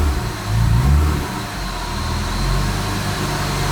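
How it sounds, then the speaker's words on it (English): The engine of a supercharged BMW E36 M3 on a VEMS standalone ECU revs up close, swelling into a loud rumble and settling back toward a rough, steady idle. It plays alone, with no voices. "and then when you rev it,"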